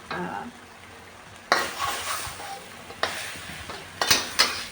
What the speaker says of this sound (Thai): พอเราจะผัดจนแครอทสุกนะคะเพื่อนๆค่ะ